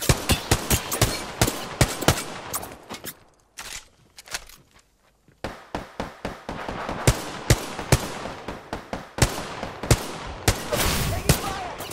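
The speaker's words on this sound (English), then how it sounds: "Taking fire!" Rapid bursts of gunfire in the Apex Legends video game, with sharp repeated shots in clusters and a short lull in the middle, loud and close throughout.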